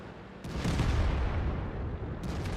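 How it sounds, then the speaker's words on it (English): A tank cannon fires at a Type 64 tank in the World of Tanks video game, a loud, heavy boom that rolls on into a sustained rumble and stays dense to the end, with no voices. "puts a shot into the Type 64."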